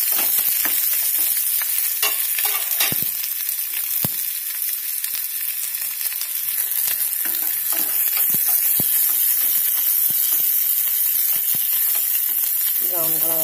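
Curry leaves and onions fry in hot oil for a potato masala curry, a steady bright sizzle throughout with occasional crackles and stirring clinks.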